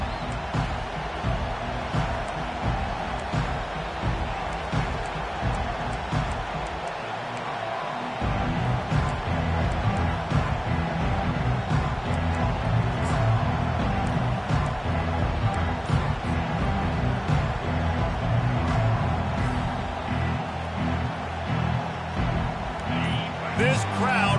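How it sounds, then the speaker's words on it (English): Stadium crowd roar at a college football video game, Hurricanes at home in Miami, sustained and loud throughout, swelling slightly partway through, with a commentator's voice running over it. "This crowd bringing an ear-splitting welcome to their visitors."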